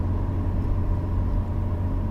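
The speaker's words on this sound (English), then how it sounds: "You heard the car?" A car passing in the X-Plane 12 flight simulator, heard as a steady, loud low rumble of engine and road noise filling the whole stretch with no speech.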